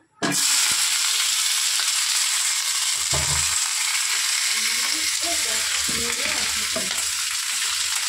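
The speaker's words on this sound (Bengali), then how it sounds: "তো দেখো আমি পেঁয়াজ আর এটা একবারে দিয়ে দিচ্ছি তেলের মধ্যে।" Onion pieces dropped into hot oil in a home kitchen give off a loud, steady sizzle that flares right at the start and then holds an even hiss. A few soft stirring knocks sound beneath it.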